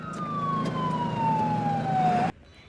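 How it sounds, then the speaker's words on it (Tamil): An ambulance siren sounds as a single loud, sustained tone that slowly glides downward over about two seconds before cutting off abruptly, leaving quiet behind. "அங்க பாருங்க, ஆம்புலன்ஸ் வர்ற மாதிரி சத்தம் கேக்குது"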